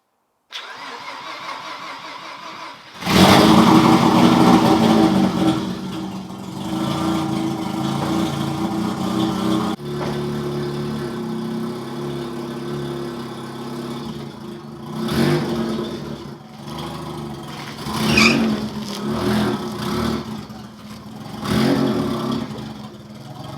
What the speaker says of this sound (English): let's see if it actually turns over once I put a battery in